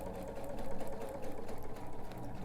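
A sewing machine stitches slowly across the boxed corner of a tote bag, its steady whirring needle rhythm running close and continuous throughout.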